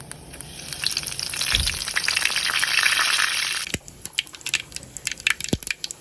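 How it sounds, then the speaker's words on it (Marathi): Cumin, mustard seeds and curry leaves crackle and sizzle loudly in hot oil, a dense steady spatter that cuts off abruptly and gives way to scattered sharp pops. "तेल गरम झाल्यावर त्याच्यात आपण जिरे टाकलेले आहे, थोडीशी मोहरी टाकलेली आहे"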